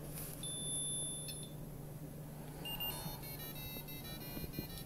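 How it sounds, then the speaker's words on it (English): An Arduino-controlled autonomous Nerf gun gives short electronic beeps while it waits for a card to be scanned. The beeps are faint and thin, set against a steady low hum, with a brief pause between bursts. "it beeps until you put a card"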